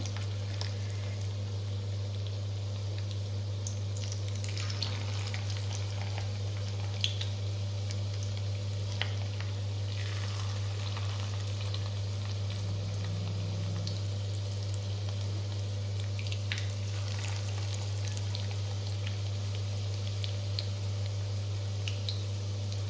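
Fish fritters fry in a wok with a steady, even sizzle and faint bubbling, sitting over a constant low electrical hum; no one speaks.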